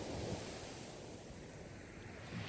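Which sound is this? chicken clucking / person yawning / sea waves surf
sea waves surf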